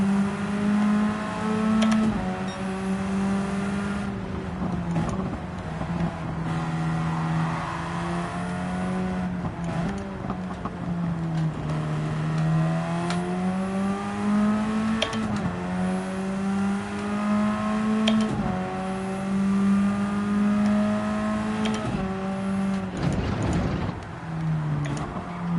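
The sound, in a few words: Radical race car engine at Nürburgring GP, from video game Gran Turismo 7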